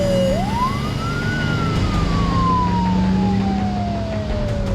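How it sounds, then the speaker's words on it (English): Airport fire engines racing toward the runway, a loud wailing siren rising and then sweeping slowly down over a heavy engine rumble, close and continuous with no voices. "Airport firefighters rush to take up positions near the runway."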